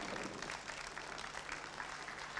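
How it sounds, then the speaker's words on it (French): A crowd in Cherbourg-Cotentin applauds, a dense, continuous wash of clapping heard at a moderate distance without a break for the short stretch. "le public de Cherbourg-Cotentin va t'applaudir"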